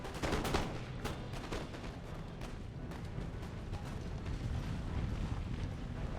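Line infantry muskets firing in the Empire Total War game, a burst of crackling volleys at the start followed by scattered distant shots over a steady low battlefield rumble, with no talking.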